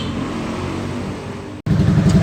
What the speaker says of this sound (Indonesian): Nah, ini adalah suara mesin dari Suzuki Skywave ya.